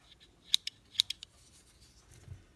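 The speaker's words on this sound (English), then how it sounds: "you get a nice big pair of scissors" A Roxon S501 knife-and-scissors combo tool's large scissors snip open and shut, giving several sharp metallic clicks in quick pairs, close and quiet with no talk.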